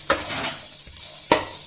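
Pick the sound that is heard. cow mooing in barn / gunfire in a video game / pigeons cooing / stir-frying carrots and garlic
stir-frying carrots and garlic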